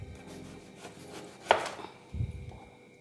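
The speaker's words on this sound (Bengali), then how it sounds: "এবার বেগুনটা সুন্দর করে পিস করে নেব, পাতলা পাতলা পিস হবে" Knife slicing an eggplant into thin pieces on a cutting board, a few soft close taps and thuds, quiet and without talk.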